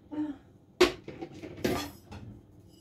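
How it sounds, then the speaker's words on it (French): Dishes and bowls clatter and clink as someone rummages through a stack looking for a bigger salad bowl, two sharp bursts of knocking crockery among softer shuffling. "Attendez, je vais voir si j'ai pas un saladier plus grand."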